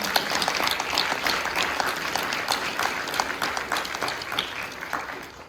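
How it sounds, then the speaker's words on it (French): Steady audience applause at a French conference on depression, dense clapping from a seated crowd held at an even level throughout the clip with no voices. "on peut commencer par applaudir toute l'équipe d'Empathèse"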